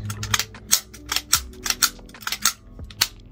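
Lower and upper receivers of a KWA QRF Mod 3 airsoft rifle worked together, a close series of sharp plastic-and-metal clicks and clacks in an irregular rhythm, with no talk.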